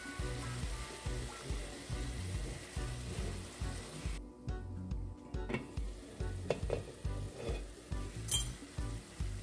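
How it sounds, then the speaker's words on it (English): Saltfish cooking down in sautéed seasoning in a pan for Jamaican ackee and saltfish makes a soft, quiet sizzle, with repeated stirring strokes and a few light clinks of a utensil against the pan. "So you're going to mix your saltfish into your sauteed seasoning. And you're going to allow this to cook for about 2 minutes."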